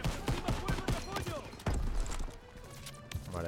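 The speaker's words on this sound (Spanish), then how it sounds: "¡No podemos avanzar con esas ametralladoras disparándonos!" Machine guns and rifle fire in the Call of Duty WWII campaign's D-Day landing, dense rapid bursts and single shots over battle noise, with a voice talking throughout.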